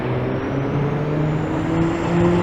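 Traffic and trucks idle and rumble at a freeway intersection beneath a noisy overpass in Reno, Nevada, a dense, steady, close roar of engines with a faint high whine running through it and no voices.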